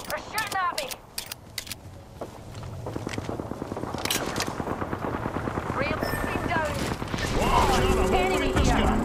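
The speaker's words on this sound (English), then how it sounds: "They're shooting at me." Rapid bursts of gunfire in Apex Legends, sharp shots and automatic fire coming in quick volleys, loud and near, with a person talking over the shooting.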